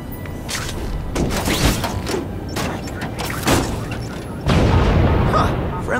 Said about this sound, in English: Neighborhood fireworks.